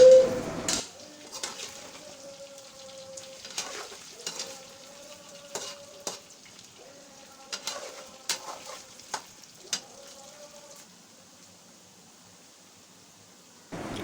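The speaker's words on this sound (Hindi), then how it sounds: "अब इसमें डालेंगे अदरक लहसुन का पेस्ट और इसको हम थोड़ा सा फ्राई करेंगे" Ginger garlic paste fries with potatoes in a pan, giving a faint sizzle broken by repeated scraping stirs, with a short bright hiss at the start and no talk.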